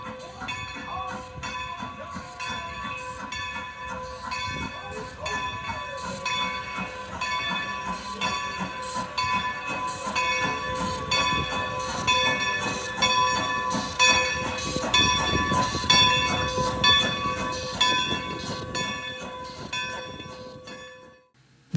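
Strasburg Rail Road steam locomotive number 90 rolls into the main station at Strasburg with rhythmic chuffing, ringing bell and steam hiss, growing louder as it nears, then cutting off abruptly.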